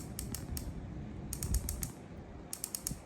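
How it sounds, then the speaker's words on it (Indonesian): Sharp clicks come from the rotary turret of a KJ Works M700 bolt-action airsoft rifle scope being turned, falling in three short rapid clusters of several crisp ratcheting ticks each, close and quiet with no talking. "Rotary ini sebetulnya fungsinya untuk memudahkan ketika kita mendengarkan klik saat zeroing unit"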